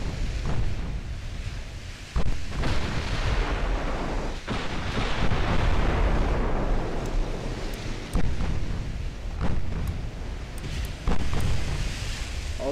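Naval guns fire broadsides in the Ultimate Admiral Dreadnoughts warship game: heavy booming blasts land every couple of seconds over a dense, continuous rumble of gunfire and distant explosions, loud and without talk.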